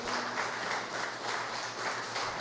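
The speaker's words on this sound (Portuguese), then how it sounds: "dá uma salva de palmas para Jesus" A church congregation applauding for Jesus during a service, a soft sustained wash of many hands clapping at an even level, somewhat distant and with no talk over it.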